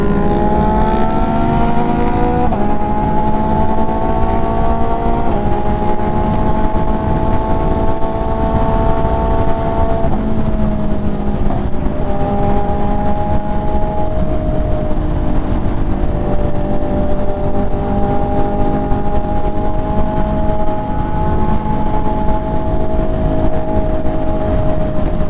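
An MV Agusta motorcycle rides through downtown Austin, its engine note loud and close, holding a steady drone with shifting pitch as it cruises and gears change over about 25 seconds.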